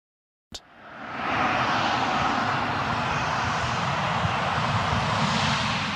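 A propeller airplane's engine drone rises after a brief sharp onset as the plane lands on a field, holding steady, loud, broad and roaring throughout, with no voices.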